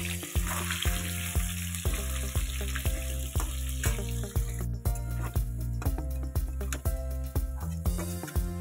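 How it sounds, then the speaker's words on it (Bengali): Potatoes frying in oil seasoned with turmeric and salt, a steady close sizzle with repeated sharp clicks of a spatula or utensil against the pan throughout, alone without talk. "আর দিয়ে দিচ্ছি হলুদের গুঁড়ো, আর দিয়ে দিচ্ছি সামান্য লবণ, দিয়ে কিন্তু আলুগুলো ভালো করে ভেজে নিতে হবে।"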